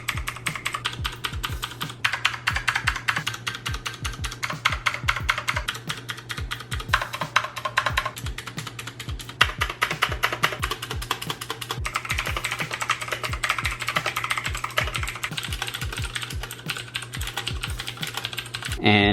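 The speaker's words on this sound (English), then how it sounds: "The click seems a little louder on the Jixian switches" Rapid typing on a mechanical keyboard fitted with Jixian blue clicky switches, a steady stream of sharp, close clicks recorded alone in a quiet room.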